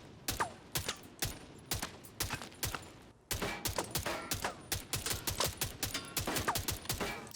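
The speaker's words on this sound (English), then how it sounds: "Concrete will make a thudding sound when bullets enter it" Gunfire in a looter shooter video game strikes concrete and metal surfaces, producing rapid bursts of sharp shots and impacts in uneven clusters, with a brief pause midway before a denser, sustained volley.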